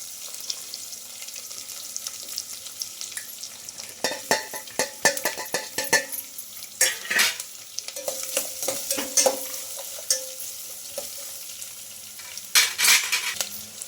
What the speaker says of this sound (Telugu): ఇలా పొడవుగా కట్ చేసుకున్న ఆనియన్స్ అయితే వేసుకుంటున్నానండి